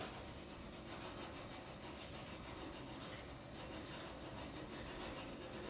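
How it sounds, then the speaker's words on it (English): A burnishing rod rubs down the bevel of a copper etching plate in a steady, continuous scraping rasp, close and even, with no pauses and no voices. "So you just get your burnishing rod, and that burnishes them down."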